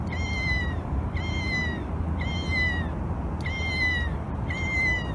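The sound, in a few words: cat meow sound from a cat keychain toy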